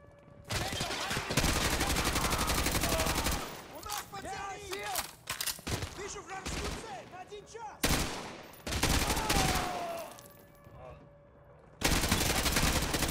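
Gunfire in a Modern Warfare 2 Remastered firefight: loud bursts of automatic rifle fire and single shots in clusters, broken by brief pauses, with a voice talking over parts of it.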